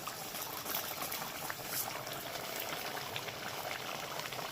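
Mint chicken curry with yogurt boils in a pan, giving a steady, close, even bubbling and sizzling hiss that runs throughout without pause.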